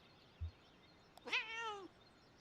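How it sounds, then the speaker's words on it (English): A cat in the video game Kentucky Route Zero lets out a single clear meow that bends down at the end, preceded by a muffled thud and a tiny click, with nothing else audible. "Confident meow."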